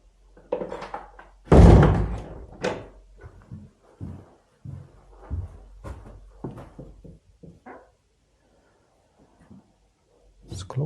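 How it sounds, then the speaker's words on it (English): A door closes with a loud thump near the start, followed by footsteps, shuffling and other handling noises on the island of Naissaar with its abandoned military bunkers. "Let's close the door, otherwise the flies will come in."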